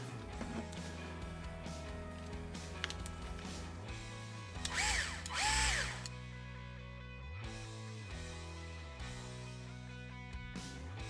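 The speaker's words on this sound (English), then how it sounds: "It's time to put the screws back in." A power screwdriver drives screws back into the transmission of an SCX10 RC truck. The driver gives short, close whirring bursts, the loudest near the middle, separated by light clicks and handling noises as each screw is placed.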